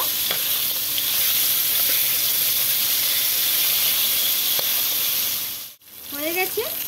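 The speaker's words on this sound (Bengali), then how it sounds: "তেলের মধ্যে দিয়ে দিলাম মাছের মাথাগুলো" Hilsa fish heads rubbed with salt and turmeric sizzle steadily in hot oil, a dense, loud frying hiss that briefly drops out near the end before crackling back in with a few sharp spits.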